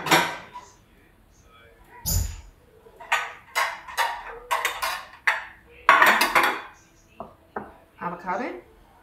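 Bowls clatter against one another and a cupboard shelf in a home kitchen, a string of sharp ceramic knocks spread over several seconds, close and fairly loud, with a voice speaking between them.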